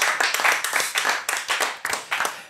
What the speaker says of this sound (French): On peut même les applaudir.